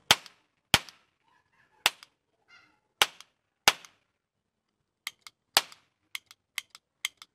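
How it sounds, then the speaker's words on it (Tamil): Men in Black ring caps firing in a toy cap gun on Diwali, a string of sharp isolated cracks: several loud single pops early, then a quicker, fainter series of snaps, with no talking. "சுற்றி சுற்றி அதை அடிக்கிறது வெடிக்குது"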